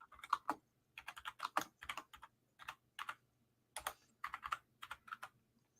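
A computer keyboard is typed on in bursts of quick clicking keystrokes, close and clear, with short pauses between the runs and no talk over it.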